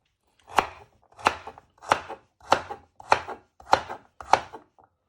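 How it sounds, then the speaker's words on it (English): A knife chops food on a cutting board in seven evenly spaced, firm strokes, close and distinct with short silences between them and no talk; the cook is halving and dicing ingredients for a lamb pie. "First you chop it in half"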